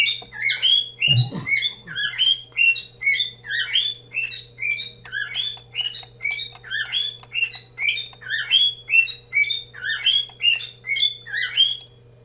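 A bird chirps indoors in rapid, evenly repeated bursts of high, bright notes, close and loud, continuing for the whole stretch over a low steady electrical hum, with one brief thump near the start.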